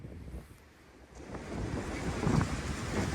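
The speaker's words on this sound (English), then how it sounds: "Hold on to your hats, folks. It's getting so windy!" Strong gusting wind outdoors during plein air drawing, a rough low rumble of wind buffeting the microphone that dips briefly and then builds louder, with no speech.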